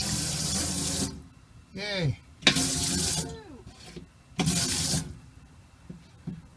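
Water gushing from a newly replaced faucet in bursts, turning on and off several times, with short spoken exclamations between the runs.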